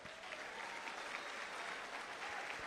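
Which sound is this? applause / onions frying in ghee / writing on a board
applause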